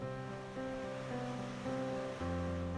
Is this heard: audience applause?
no